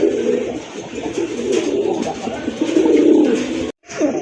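Domestic pigeons at a pigeon sale coo in a low, steady, murmuring stream that rises and falls throughout, fairly close and continuous, with a brief dropout near the end.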